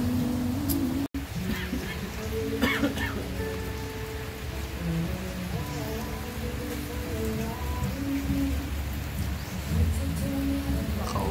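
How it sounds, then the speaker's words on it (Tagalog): Steady rain pours outside in Candelaria, Quezon, a dense unbroken hiss of drops on surfaces running throughout, with faint voices mixed underneath. "Tapos umuulan sa background namin."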